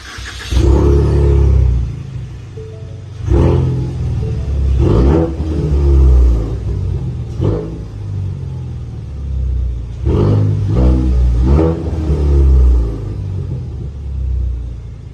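A 2018 Ford Mustang EcoBoost in stock form revs repeatedly, with four or five loud, close bursts of throttle that rise and fall back toward idle between pulls.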